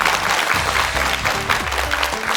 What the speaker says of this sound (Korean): 감사의 박수 한번 보내드리도록 할까요?